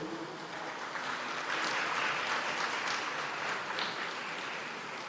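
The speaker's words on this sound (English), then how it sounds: "give a further round of applause for our future generation from the Rose Art Preparatory School" An audience applauds schoolchildren from the Rose Art Preparatory School at a project launch in Jamaica, a soft, steady wash of clapping that swells slightly in the middle and fades a little toward the end.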